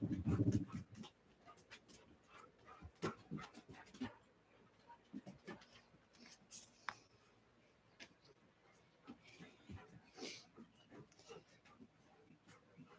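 Several dogs whimper and give short barks, some near and some farther off, mixed with scattered thumps and clatter and occasional faint voices in a quiet outdoor space.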